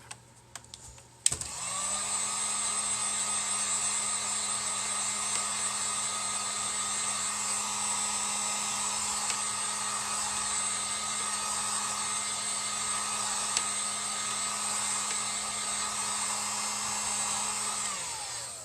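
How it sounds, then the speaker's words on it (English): A heat gun drying a plastic-sheet acorn wall-hanging craft piece switches on with a click and blows a steady, loud whooshing whine for the whole stretch, with no talk over it. "I want to go ahead and use my heat gun to dry this off"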